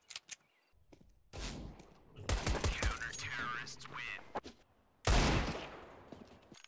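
A FAMAS rifle sprayed in CS:GO bursts out in two loud runs of rapid automatic fire, the longer one lasting a couple of seconds, with a quick shot near the start and a softer stretch between bursts.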